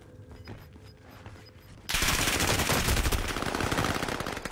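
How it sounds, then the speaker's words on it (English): In a video game, quieter ambient noise gives way to loud, sustained automatic gunfire: a dense, rapid burst that continues close and heavy to the end, with no talking. "why are they shooting me?"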